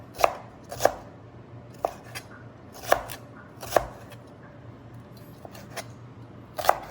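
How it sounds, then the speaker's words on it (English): A knife slices a long green onion diagonally on a cutting board. About ten crisp, separate chops come at an uneven pace over a low background hum, with no talking. "I'm just going to slice this green onion and put it in here."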